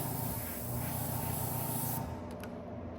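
An airbrush hisses steadily as it sprays paint along a stencil for a flame design, a close continuous airy spray that cuts off near the end.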